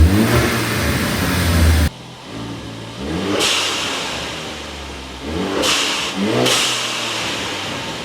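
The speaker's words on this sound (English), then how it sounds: "we'll give it a couple revs" Ford Focus ST engine fitted with a GFB DVX diverter valve, revved in a few loud, rising bursts separated by settling idle, with an airy release hiss after each rev.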